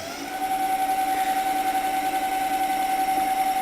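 The electric motor of a battery-powered chopper runs steadily after the throttle is turned up, holding a strong whining tone over a dense, pulsing hum that rises slightly at the start, with no talking.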